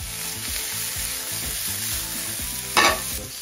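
Garlic, ginger and onions sizzle in a hot pan while being stirred, with steady frying hiss, repeated scraping strokes, and a brief louder clatter near the end.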